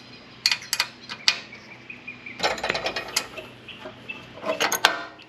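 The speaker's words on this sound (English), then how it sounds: "I'm using an adjustable wrench" Metallic clicks and clinks of an adjustable wrench turning nuts on the bracket of a Green Touch Xtreme Series V3 sprayer rack, with irregular bursts of close, sharp ratcheting and tool contact separated by brief pauses.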